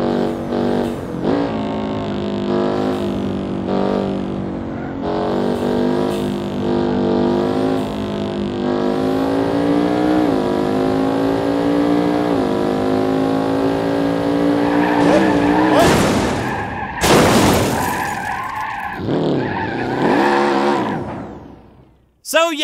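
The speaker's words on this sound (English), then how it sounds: "they also added tunnel sound effects, so you will hear a reverb of our very, very, very, very powerful engine as we drive through this" A very powerful car engine roars steadily through a tunnel in the driving game BeamNG Drive, its tone rising and falling, with sharp bursts of tire squeal near the end.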